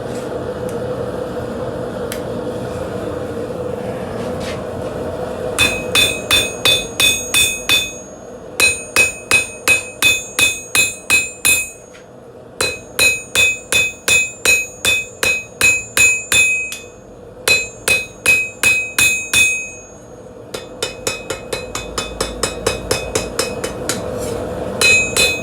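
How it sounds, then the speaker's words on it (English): A hot stainless steel knife blade is hammered in rapid bursts of ringing metallic strikes, each run of blows separated by short pauses, loud and close with no talking. "I got to get that blade out of the fire and I'm going to start hammering on it"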